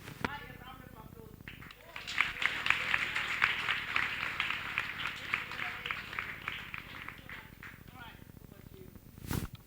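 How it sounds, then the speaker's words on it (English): Audience applause at a luncheon on the inclusion of people with disability, a moderate swell of clapping that builds, holds and tapers off, with voices talking around it. "A round of applause."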